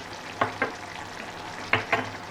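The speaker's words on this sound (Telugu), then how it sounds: "ఇప్పుడు లైట్గా రోస్ట్ చేసుకున్నాను" Whole spices with pepper dry-roasting in a pan for Telangana-style pepper mutton, a low background hiss broken by four sharp scraping stirs in two pairs.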